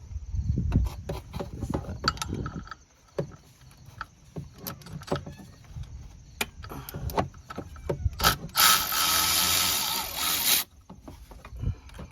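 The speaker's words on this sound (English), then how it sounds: "next we're gonna take off the pulley bolts" Ratchet work on 10 mm pulley bolts of a Cadillac CTS water pump: close, irregular clicks and metallic clatter from tools and parts, with a burst of dense ratcheting or rattling noise near the end.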